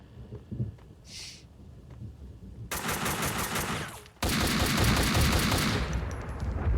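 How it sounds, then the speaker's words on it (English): M4 rifle fire in the shooter Max Payne 2: loud, rapid automatic bursts at close range. After a quieter opening with a brief sound, two long sustained volleys follow, the second louder. "At least the M4 is still as useful as always"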